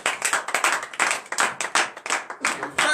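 A congregation at a Saturday morning prayer service in Benin claps in quick rhythmic bursts with some acclaiming, loud and close, continuing steadily without clear speech.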